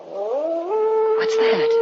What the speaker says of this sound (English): Oh, that was just a dog, Dora.